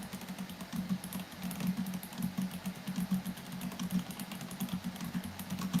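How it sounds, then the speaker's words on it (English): A loud computer keyboard clatters in quick, uneven bursts of keystrokes, close up and continuous, with a low steady hum underneath. "my keyboard's loud"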